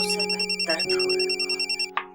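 A telephone rings in a domestic drama scene, a repeated electronic trill in regular short pulses that sounds clear and close, with a brief clatter near the end.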